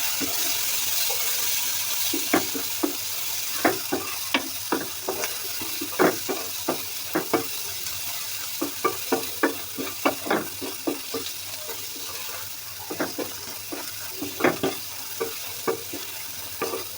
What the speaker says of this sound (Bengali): এখন সামান্য সয়াবিন তেল দিয়ে পেঁয়াজ রসুন মশলা সব কষাই নিতেছি